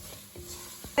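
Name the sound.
stirring spices, turmeric and garam masala in a pan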